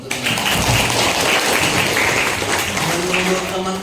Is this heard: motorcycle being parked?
no